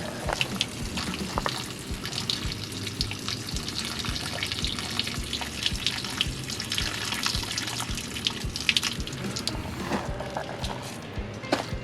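Water drains from three plumbing hoses under a Coachmen Nova 20C RV during winterization, a steady continuous gushing and splashing that stays fairly loud and unbroken throughout, with no talking.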